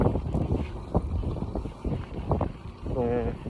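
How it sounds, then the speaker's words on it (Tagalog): Strong wind buffeting a boat out on the water in cold weather, a steady rushing roar with microphone gusts running throughout, while a person talks over it. "Sobrang hangin"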